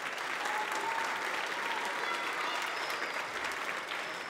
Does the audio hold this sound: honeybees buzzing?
no